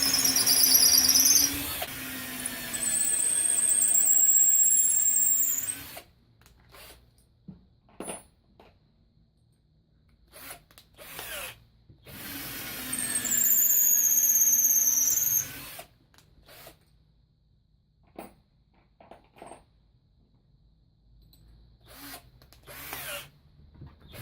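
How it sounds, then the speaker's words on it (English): A power drill bores a pilot hole in wood for a retractable staff, whining loud and steady in two long bursts of several seconds each, separated by clicks, knocks and handling noises. "Let's do a pre-drill then."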